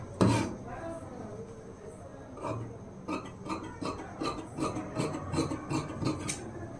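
Fabric for a boat-neck blouse is cut with scissors, giving a quick rhythmic run of close, rasping snips in the second half, preceded by a louder rustle and scattered handling sounds.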